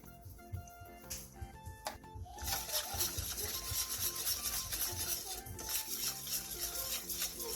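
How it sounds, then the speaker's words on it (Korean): Glutinous rice flour batter with water, minced garlic, an egg, salt and chopped green chili is stirred in a wide bowl, giving close, continuous scraping and rubbing against the bowl with a few light clinks at the start. "물 1컵 반, 다진 마늘 1티스푼, 계란 1개, 소금 1티스푼, 청양고추를 넣고 골고루 섞어주세요"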